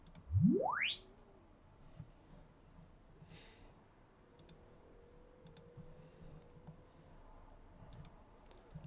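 A rising sine sweep glides quickly from low to very high pitch, then fades into quiet room noise with faint clicks.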